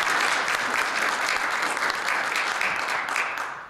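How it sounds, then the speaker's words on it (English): An audience at a film screening and panel in a library claps steadily in a dense, even wash of applause that holds throughout and tapers slightly at the end, with no talk over it. "Yes, we can give him a round of applause."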